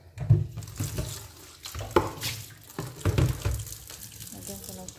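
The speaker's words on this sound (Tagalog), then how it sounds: "lagyan ko ng tubig." Tap water runs into a container in a home kitchen while chicken curry is prepared, splashing and gurgling with shifting intensity, close by, under brief talk.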